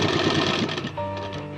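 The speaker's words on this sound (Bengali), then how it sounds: "দেখতে পাচ্ছেন এভাবে আমি সমস্তটা সেলাই দেবো।" A sewing machine runs steadily while stitching a fabric frock belt, giving a close, loud, continuous mechanical chatter that slows slightly toward the end, with no talking.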